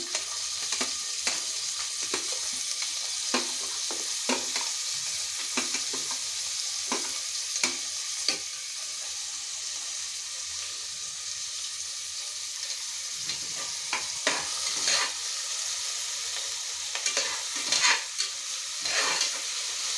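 Onions with tomato, curry leaves and peanuts sautéing in a pan for khandeshi thooli: a continuous loud sizzle with frequent quick spatula scrapes and taps, heavier toward the end.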